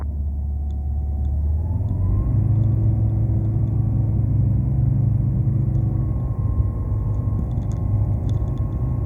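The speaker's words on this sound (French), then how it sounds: "on s'aligne 10 droite et on décolle pour un vol a priori vers Rouen" From the cockpit of a light aircraft lining up on runway 10 right at Les Mureaux, the engine roars up to a loud, steady full-power drone for takeoff, close and continuous throughout.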